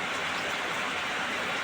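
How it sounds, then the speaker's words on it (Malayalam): Heavy rain pours down steadily, a dense, even hiss of falling water with no pauses or other sounds, close and continuous throughout. "ഇവിടെയെല്ലാം നല്ല മഴയാണ് കേട്ടോ"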